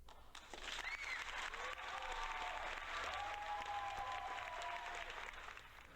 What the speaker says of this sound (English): We have applause.